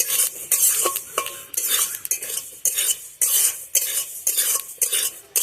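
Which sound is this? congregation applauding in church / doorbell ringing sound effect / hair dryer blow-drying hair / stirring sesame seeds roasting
stirring sesame seeds roasting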